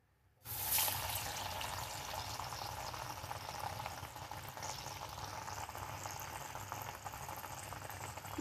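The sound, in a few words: dal vadas deep-frying in hot oil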